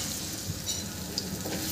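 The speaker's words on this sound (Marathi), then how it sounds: "मी छान टोमॅटो शिजवून घेते." Chopped tomatoes cook in a hot pan with a soft, steady sizzle and light bubbling crackle, close by, with a couple of faint tinkling ticks and no voices.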